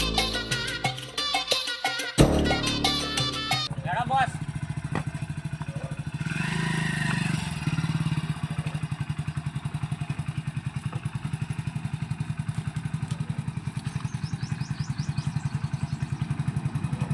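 A black Splendor motorcycle runs with a steady, rapid engine thud close by, after a few seconds of clattering and handling noise at the start.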